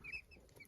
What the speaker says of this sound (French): Il y a ce coq là aussi, lisse.